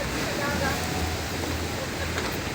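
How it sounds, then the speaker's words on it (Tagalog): Strong sea waves churning near fishermen bringing in a catch of tamban: a continuous, rough roar of water at fairly loud level, with voices talking faintly underneath. "Lakas kasi ng alon."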